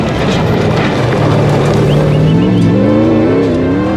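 Nissan Navara rally truck racing across desert terrain in the Desert 1000, engine droning loud and close with pitch rising and wavering as it accelerates and shifts, no voices.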